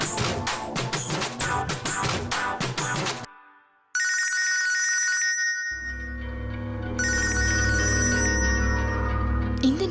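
A telephone rings indoors in a family drama scene, a bright repeated electronic ringtone that comes in after a stretch of music and a brief pause, sounding in bursts and continuing over a low hum.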